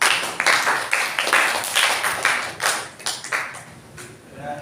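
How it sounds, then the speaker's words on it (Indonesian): A classroom of students applauding a classmate who is about to present: a short burst of many hands clapping, loud and close, that rises quickly and then thins out and fades within a few seconds. "Kita beri tepuk tangan ke Azam."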